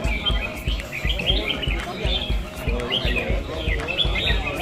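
Several birds chirp and tweet continuously in bright, overlapping calls, with a steady pattern of soft, rhythmic low thumps underneath.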